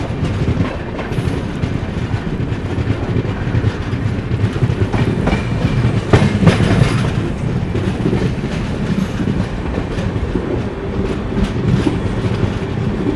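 The 20806 Andhra Pradesh SF Express running at high speed through Telangana, a loud continuous rumble with rhythmic clickety-clack of wheels over rail joints, heard from on board.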